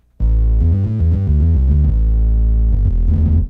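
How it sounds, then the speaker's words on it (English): A Nord keyboard bass patch plays a loud, gritty, slightly throbbing line of shifting notes, starting abruptly and running continuously with a buzzy, effected edge and no talking. "And then you had another bass coming out of the Nord"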